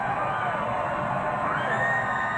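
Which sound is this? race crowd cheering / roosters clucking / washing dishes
race crowd cheering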